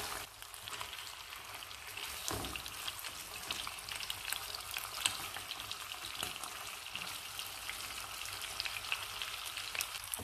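Sea bream fries in oil in a pan over a high flame, giving a steady soft crackling sizzle with scattered pops, close and fairly quiet.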